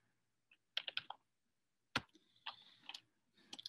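Computer keyboard keys clatter in small quick clusters of crisp taps, close and fairly quiet, with short silences between the bursts.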